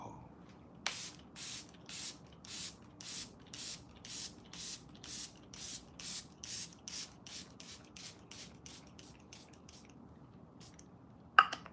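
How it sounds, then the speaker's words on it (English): A face mist sprayed onto the face, heard as about twenty short, regular hissing bursts from a pump bottle, close and fairly loud, with no talking. "I'm gonna spray my face."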